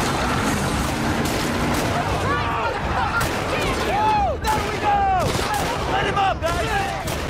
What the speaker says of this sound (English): Let me try this gun out.